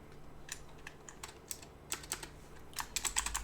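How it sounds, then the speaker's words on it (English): Fingers type a chat message on a computer keyboard close by, irregular clicking keystrokes that start sparse and speed into a quick burst of presses near the end, with no talking. "I should type that right now in the Discord"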